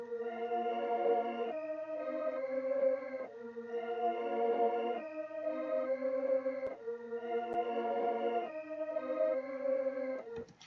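A soft synth melody in FL Studio repeats in phrases, its tail chopped and replayed in a stuttering pattern by a basic Gross Beat setting before each phrase restarts; moderate level, no voices.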